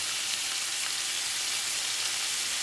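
Minced garlic sizzles in a pan while cooking rice with chorizo, giving a steady, bright, crackling hiss that runs unbroken at close range with no voices.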